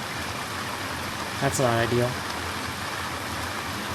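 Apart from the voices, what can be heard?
rain in the video game Neo Scavenger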